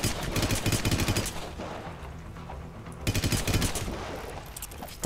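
Bursts of rapid automatic gunfire from the video game Hitman: Absolution rattle in dense volleys, break off for a quieter stretch with a low steady hum, then resume just as heavily.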